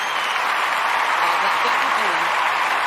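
Audience applause at a live talk show, a steady, dense wash of clapping that stays even for a few seconds, with a faint murmur of voices mixed in.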